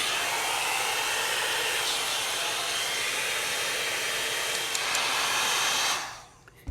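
Envy Airstyler hot air styler blowing on high heat while styling a heat-friendly wig: a loud, steady broadband rush of air held for about six seconds, then abruptly cut off.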